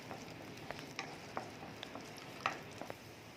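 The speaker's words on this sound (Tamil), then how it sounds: "இது கூடவே இஞ்சி, பூண்டு, 2 பச்சை மிளகாய் சேர்த்துட்டு நல்லா நம்ம இத வதக்கிக்கலாம்." Ginger, garlic and green chillies are sautéing in groundnut oil in a pan, with a faint, quiet sizzle broken by soft stirring clicks and scrapes, and no talk.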